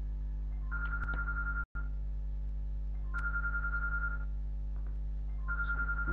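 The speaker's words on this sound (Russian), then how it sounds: "Кому-то звонит Ямарадж" A telephone rings in three repeated electronic bursts with gaps between them, steady and fairly clear over a low constant hum, with no speech.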